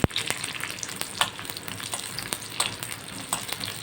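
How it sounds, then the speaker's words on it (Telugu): Dried red chillies fry in hot oil in a pot, making a close sizzle broken by frequent sharp crackles and pops. "దీంట్లోనే కొన్ని ఎండుమిరపకాయలు కూడా వేయించేస్తాను."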